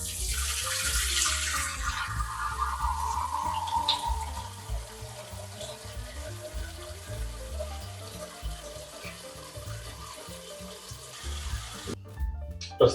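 Cold water pours steadily from a tap into a pot holding a small veal beef tongue, a continuous rushing splash that softens slightly as the pot fills, ending with a brief clatter.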